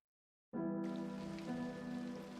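Rain falls outside a tent in the game Punishing: Gray Raven. It starts abruptly as a soft, steady patter over a sustained tonal drone.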